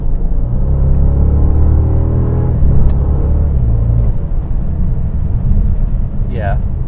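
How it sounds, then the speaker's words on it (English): A 2017 Bentley Continental GT engine pulls smoothly, a steady loud rumble rising in pitch with a brief gear change partway through, heard from inside the car. "Engine, it effortlessly surges off, and there's no drama with it."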